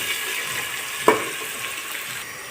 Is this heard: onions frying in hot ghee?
yes